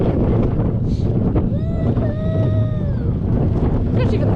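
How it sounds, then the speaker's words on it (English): Strong wind buffets the microphone at the Plopsaland De Panne amusement park in February, a constant rushing roar with a brief whistling tone rising and falling midway, no clear talk over it. "Quite windy actually."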